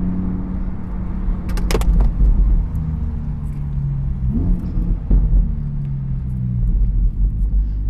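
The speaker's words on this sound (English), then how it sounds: "I don't know if you saw the car started drifting" A Lamborghini Huracan EVO supercar rumbles with a deep, steady engine drone as it drifts, the growl rising and falling, with a brief sharp rattle near the start and no voices.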